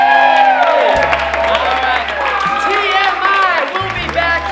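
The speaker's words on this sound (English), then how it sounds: "And keep that applause going for our very special guest this evening, Lidia Porto" Studio audience at a television entertainment show premiere cheers, whoops and applauds a guest, a loud continuous crowd roar with shouts layered over sustained clapping and a low musical bed beneath.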